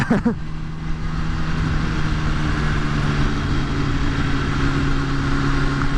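A motorcycle with a quiet stock exhaust hums along at a steady cruise, its engine drone even and moderate beneath wind noise, with a brief louder burst at the very start.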